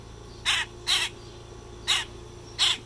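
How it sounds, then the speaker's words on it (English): A young bird with baby feathers still giving way to adult plumage squawks loudly four times, harsh crow-like calls arriving in two pairs with a pause between, close by against a quiet room. "just a squawky, annoying bird"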